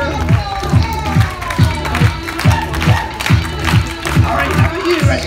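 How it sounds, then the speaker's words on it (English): A crowd at an outdoor science show at an ostrich festival claps in a steady, rhythmic beat, loud and close, with a thumping low pulse and scattered voices and cheers mixed in. "Let's clap your hands."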